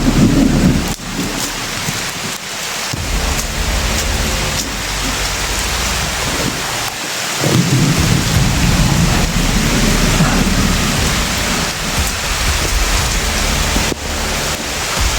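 Heavy rain pours steadily and loudly, a dense constant hiss close by, with low rumbles of thunder rolling underneath throughout.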